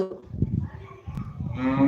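Cattle moo on a village farm during the Sankranti and Kanuma festival, with a couple of low drawn-out calls amid rustling background noise, fairly close.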